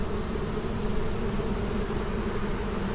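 A honeybee swarm buzzes and fans at a hive box, a dense, steady, close drone of many wings with no pauses and no voices.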